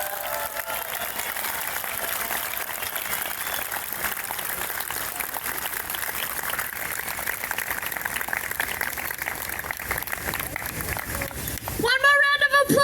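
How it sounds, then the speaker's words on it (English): Steady applause and crowd noise fill an outdoor forest protest rally, holding at an even level throughout, with a brief burst of whistling or cheering near the end. "One more round of applause!"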